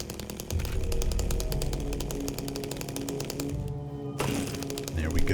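Chainsaw in Silent Hill 2 Remake revving steadily with a dense buzzing drone that cuts out briefly near the end, then resumes, with a voice faintly underneath.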